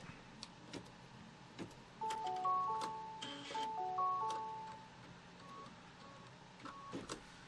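An embroidery machine stitches a quilt block for a Kimberbell Quilting Through The Seasons sew-along quilt. Faint, steady mechanical whirring carries shifting tonal motor hums in the middle, with scattered light clicks and taps throughout.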